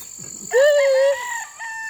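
A caged white Kelso gamefowl rooster crows once, loud and close, after a few soft clucks, with a faint steady whine in the background.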